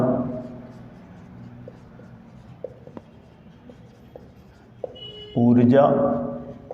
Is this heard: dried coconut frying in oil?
no